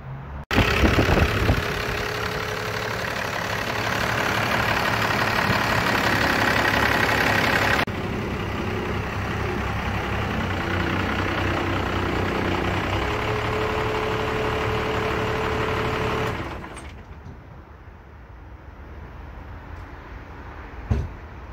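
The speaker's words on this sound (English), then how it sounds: "they don't get much simpler than this. Cummins 12 valve." A Cummins 12-valve diesel with a P pump idles with a steady mid-pitched clatter and rumble, near and loud, then drops away to quieter background toward the end.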